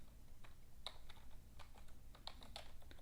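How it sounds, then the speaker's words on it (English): Rapid keystrokes on a computer keyboard while code is typed for an Android app, soft scattered clicks in short bursts with a quiet room background and no talking. "we're just going to type some of this out"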